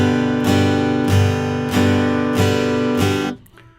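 Guitar strummed in plain, even quarter notes, six steady chord strokes ringing out in a folk style, then a quick fade to near silence.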